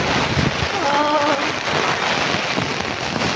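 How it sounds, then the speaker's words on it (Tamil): Steady rain falls on a road in Bangalore, a dense, continuous hiss of drops with some wind buffeting the microphone and a faint brief tonal sound early on; no one speaks. "மழை வந்தது ரொம்ப சந்தோஷம்."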